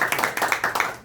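An audience claps to welcome a professor at a church book concert, a brief burst of steady hand clapping close by.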